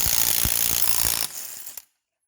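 A 17 mm socket on a ratchet loosening the lug bolts of a 2013 Fiat 500, a dense, loud, close run of rapid clicks that drops to a quieter patch and ends with one last click before silence.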